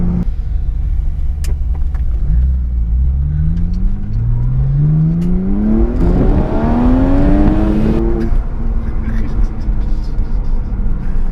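A modified Porsche 996 Carrera 4S engine hums and rises through the revs as it accelerates with the roof closed, with a voice talking over the steady cabin drone.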